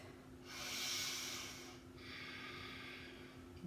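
Two long, loud breaths during a yoga session, close up: a strong airy inhale and a slightly softer, steadier exhale, alone over a faint hum.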